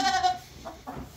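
Goats on a farm bleat as they are let out. A couple of short, fairly faint bleats are heard at a moderate distance against quiet background noise.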